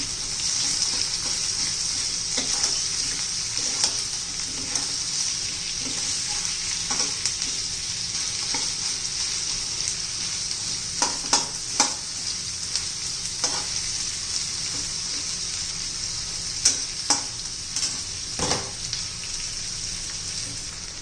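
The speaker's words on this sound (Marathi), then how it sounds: "कांद्याचा कच्चेपणा जाईपर्यंत आपण कांदा परतून घ्यायचा आहे." Onions sauté in a pan under a constant dense sizzle, with scattered spatula scrapes and taps throughout, close and steady with no speech.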